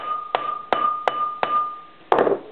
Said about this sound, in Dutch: En een hamer.